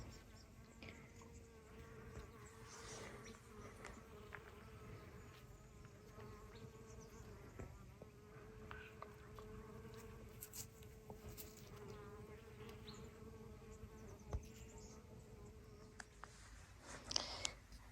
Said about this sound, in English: Look at those bees, they're just loving.